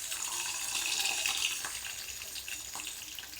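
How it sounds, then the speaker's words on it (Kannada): Green chilies and garlic sizzle in hot oil in a pan, giving a steady, close, hissing fry that holds through without pause. "ಬಾಣಲಿಗೆ ಎಣ್ಣೆ ಹಾಕ್ಕೊಂಡು ಮೆಣಸಿನ್ಕಾಯಿನ ಮತ್ತು ಬೆಳ್ಳುಳ್ಳಿ ಹಾಕ್ಕೊಳ್ತಾ ಇದ್ದೀನಿ"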